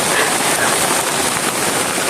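Heavy rain pours down in a dense, steady roar of hiss that stays loud and unbroken throughout.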